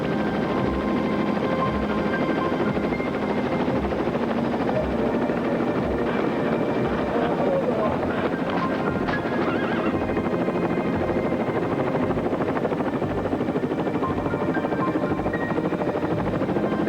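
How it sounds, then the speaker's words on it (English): A helicopter drones steadily and loudly for the whole stretch, hovering over a horse rescue site, its rotor thumping in a constant low roar with no pauses. "Chopper pilots get the call and in little time hover over the site"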